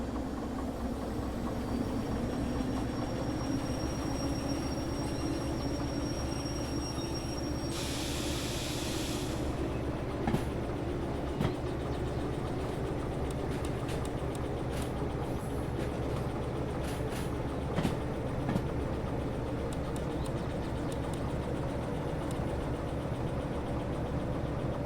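A train rolls along in the Derail Valley railway simulator during a freight shunting job. A steady, low rumble and hum of running rolling stock continues throughout, with occasional faint clanks and a brief hiss early on. No one talks.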